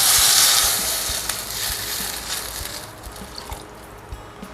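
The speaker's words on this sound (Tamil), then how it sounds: "இப்போ 1 லிட்டர் தண்ணி சேர்த்துக்கிறேன்." Water is poured into a soup pot while making Tamil-style mushroom soup with fish cake, heard as a loud sizzling, splashing rush that fades over several seconds, joined by a few soft knocks and drips.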